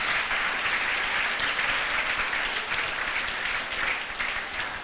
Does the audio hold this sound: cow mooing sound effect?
no